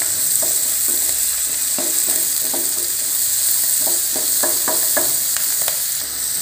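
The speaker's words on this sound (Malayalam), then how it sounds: "പിന്നെ ഒരു ഒന്നൊന്നര മിനിറ്റ് അങ്ങ് നല്ലപോലെ ചിക്കിച്ചു" Capsicum is stir-fried in a hot pan for egg fried rice, with a continuous close sizzle and repeated scraping stirs of a spatula at an uneven rhythm, and no voices.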